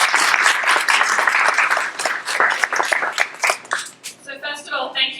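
Audience applause for a panel at a tech talk, a dense wash of clapping filling the room and thinning into scattered claps toward the end, with some voices mixed in.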